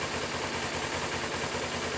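A 2011 Kawasaki Ninja 250 motorcycle idles at a steady, low-pitched putter, the small twin's pulses repeating evenly and fairly quietly at close range with no talk.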